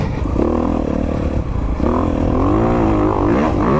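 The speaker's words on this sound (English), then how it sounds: "raise the front wheel, it's just an amount of giving a little clutch, little throttle, pulling back" Honda CRF250RX dirt bike engine revving steadily under clutch and throttle as the front wheel lifts, a loud, close, continuous drone with pitch rising and falling throughout.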